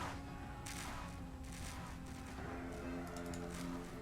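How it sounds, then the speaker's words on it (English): Towers fire rapidly in a strategy video game: a dense, continuous barrage of quick gunfire-like shots, with bursts of rattling clatter, heard faintly over background game sound. "That's a lot of shooting."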